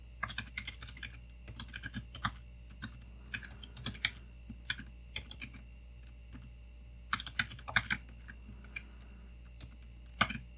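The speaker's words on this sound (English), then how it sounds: "Just delete all this and type whatever you want to say." Someone types a message on a computer keyboard during a Drauger OS setup. The keystrokes come as clustered bursts of quick clicks with short pauses between them, close and clear, and no voices are heard.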